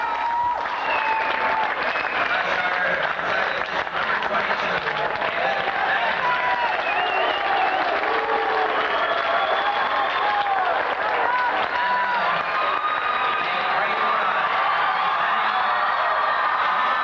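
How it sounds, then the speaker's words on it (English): Home crowd at a Chaparral High School basketball game roars with sustained applause and cheering during pregame introductions of the home team, a dense, loud, continuous wall of clapping and shouting. "they were ready to cheer."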